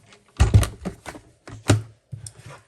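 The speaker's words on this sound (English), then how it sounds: "Let me get my Stampin' Cut and Emboss machine." A Stampin' Up! Cut and Emboss machine makes several close clunks and rattling knocks in an uneven sequence while embossing paper in a folder, with short pauses between and no talking.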